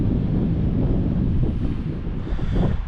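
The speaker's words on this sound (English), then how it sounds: "Out here we have the Atlantic Ocean." Strong wind buffets the microphone on the Atlantic shore at Edisto Beach, South Carolina, over a constant low rumble of surf, loud and unbroken with no talk.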